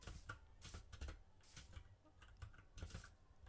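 Computer keyboard typing, close and fairly soft, in irregular bursts of quick key clicks separated by short pauses, with no one speaking.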